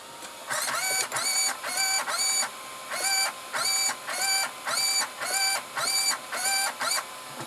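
A Traxxas Wide Maxx RC car steering servo, freshly repaired, whirs in a fast regular series of short high-pitched electric buzzes, about a dozen bursts swinging back and forth, close and clear with no talking.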